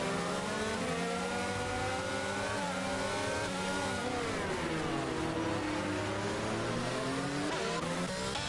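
F1 22 race cars at the Singapore Grand Prix, several high-revving engines screaming together, pitch climbing and dropping through gear changes as cars run side by side through corners, loud and continuous.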